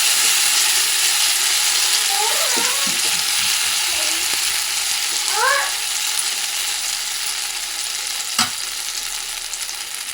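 Steady, close hiss of ghee heating on a griddle for fasting thalipeeth, a continuous sizzle with a few faint squeaky chirps and one sharp click near the end.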